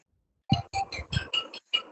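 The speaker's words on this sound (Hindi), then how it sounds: "ये फोन कहाँ बज रहा है भाई?" A mobile phone rings somewhere in the room, playing a short run of repeated electronic tones at a moderate level, with no voices over it.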